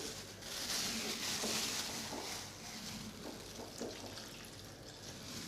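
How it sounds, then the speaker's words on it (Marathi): Chopped green chillies for a spicy Varhadi-style chilli bhaji being rinsed under running tap water, a steady close splashing and trickling that lasts throughout and grows slightly louder at the start. "आता आपण याला पाण्याने धुवून घेणार आहोत"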